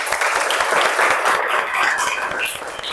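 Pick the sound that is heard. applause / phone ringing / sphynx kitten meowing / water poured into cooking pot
applause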